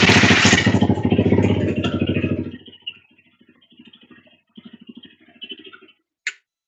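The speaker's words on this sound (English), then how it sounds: "let's see if it'll even crank over now" A 2015 Honda CBR300F motorcycle engine cranks over loudly and close for about two and a half seconds. Sparse ticks and clatter follow, then a sharp click near the end.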